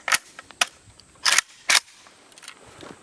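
Romanian AK rifle firing 7.62x39 rounds, four sharp reports spaced irregularly at close range, the first and last two loudest, with fainter clicks between them.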